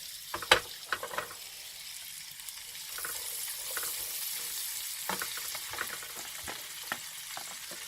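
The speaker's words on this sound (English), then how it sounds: "And the next thing to go in is my onion." Onions sizzle and fry with bacon in a pan while chicken supreme is cooked. A steady crackling hiss runs throughout, with a few light clatters of stirring near the start.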